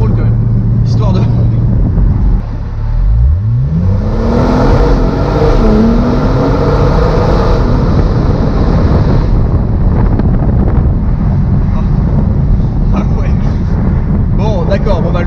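A Porsche 911 Turbo S 918 Spyder Edition accelerates hard, its engine note sweeping sharply upward in pitch and staying loud and close over steady wind buffeting, with people talking over it.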